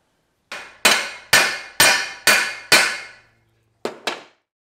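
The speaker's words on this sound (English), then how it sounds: "I'm just going to flatten it with a hammer on this side" Hammer strikes flattening a rivet on a sickle bar mower cutter bar: six sharp metallic blows in a steady rhythm with ringing decay, a pause, then two quicker taps, close and loud.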